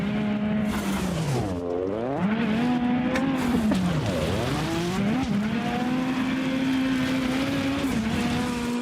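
Race car engine in the Automobilista 2 racing video game, loud and continuous with pitch swooping down and up through gear changes and corners, no talking.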